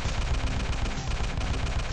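Rapid, dense bursts of gunfire from the mobile game GTA V, loud and continuous like automatic weapons firing, with no voices heard.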